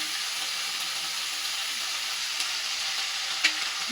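Vegetable kabab mixture sizzling steadily in a pan after turmeric goes in, a continuous close hiss with a few faint stirring clicks and no talking.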